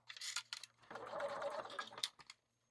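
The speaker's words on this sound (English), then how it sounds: "I'm going to be sewing with my needle in the far left position so that my presser foot can get past." A sewing machine stitches near a D-ring with the needle set far left, running in short mechanical bursts and then a longer steady whirring stretch before stopping, fairly quiet and close.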